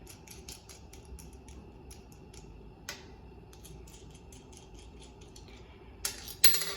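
A homemade crankbait belly weight mold being taken apart after drilling, giving a quiet run of small metallic clicks and ticks, then a louder burst of clattering handling at the end.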